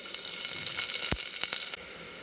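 Crushed garlic frying in oil makes a bright, steady sizzle close up, broken by a few light stirring taps and one dull knock midway. No one speaks.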